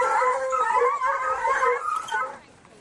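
Hunting hounds bay and howl while chasing a fox, several voices overlapping in a continuous wavering chorus that fades near the end.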